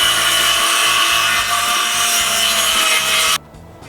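A handsaw cuts a wooden board to size for a sleeping platform in an FJ Cruiser, giving steady, loud back-and-forth strokes that stop abruptly near the end.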